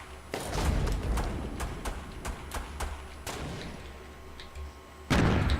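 Grenade launcher rounds explode in a Fortnite 50 vs 50 battle royale match, a string of sharp booming blasts in quick succession. The detonations ring out over a steady low rumble of battlefield noise, and one last heavy blast lands near the end.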